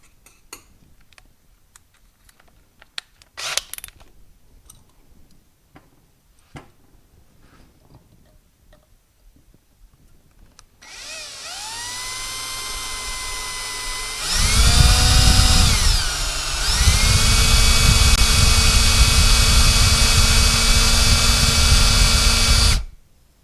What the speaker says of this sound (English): So we'll go ahead and just start drilling.